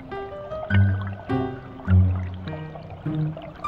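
Water gurgles and splashes in bursts through a household drainage channel carrying away used water, with several loud pulses of flow and dripping at an uneven rhythm, close by.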